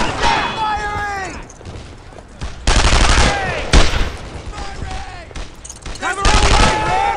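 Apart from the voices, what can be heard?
gunfire in video game Brothers in Arms: Earned in Blood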